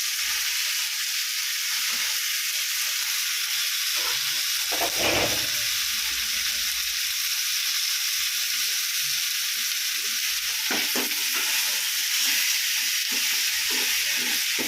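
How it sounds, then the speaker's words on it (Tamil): Prawns for prawn biryani sizzle steadily in a hot pan, a dense continuous frying hiss with a brief louder surge of spatter and occasional stirring scrapes, close and alone without speech. "இந்த பாருப்பா, இறா போடுறேன்"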